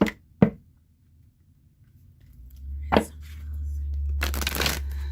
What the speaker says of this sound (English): Shuffle 3 times, cut the deck, and draw 1 card.